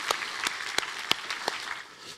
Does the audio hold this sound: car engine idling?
no